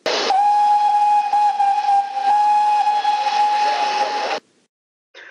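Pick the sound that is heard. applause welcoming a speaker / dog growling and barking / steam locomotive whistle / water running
steam locomotive whistle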